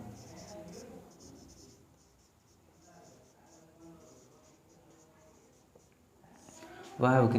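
Pen strokes on paper while a definition of a chemical reaction is written out for a class 10 science lesson, faint and scratchy and continuing for several seconds, with a louder burst of speech at the end.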